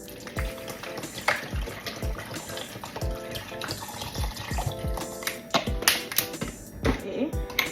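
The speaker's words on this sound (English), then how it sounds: "So I'm gonna add the water." Water poured into a pot fitted with a strainer, a close splashing trickle with clinks and knocks of kitchenware throughout.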